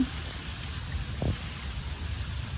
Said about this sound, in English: The rain is starting to slow down a bit.